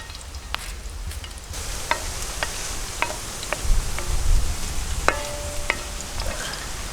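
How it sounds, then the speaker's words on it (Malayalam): Chili pieces dropped into hot oil for a Kerala-style fish pollichathu sizzle steadily and close by, with sharp scattered pops and crackles over a constant frying hiss. "ചൂടായ എണ്ണയിലേക്ക് നമുക്ക് കുറച്ച് മുളക് ഇട്ട് കൊടുക്കാം."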